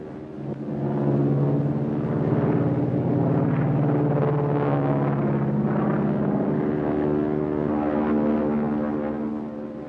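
A propeller-driven land plane in flight, reportedly with engine trouble: a loud, steady droning engine hum with layered tones, rising in at the start and holding constant before easing slightly, no talk.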